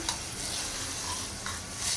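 Spoon stirring a thick paste of chili, cumin and garlic in a pot for horse gram pithla, with steady scraping and a gentle sizzle underneath, no voices.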